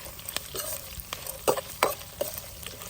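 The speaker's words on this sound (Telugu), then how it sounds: "మంచిగా చాలా ఎర్రగా వేగాలన్నమాట, వేగకపోతే పులిహోర అస్సలు బాగుండదు" Tempering for mango pulihora fries in a pan with a soft sizzle beneath it, broken by several sharp scraping strokes of a spoon as the spices are stirred.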